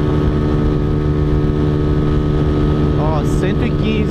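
A Honda Fan 125 motorcycle with 15x38 gearing, carrying a passenger, drones loudly and steadily under constant wind rush, with a few brief high chirps near the end.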